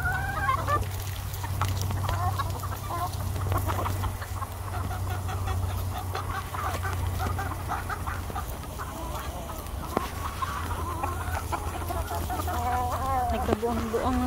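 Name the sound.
free-range chickens eating bread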